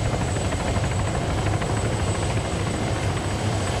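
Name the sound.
helicopter landing in a video game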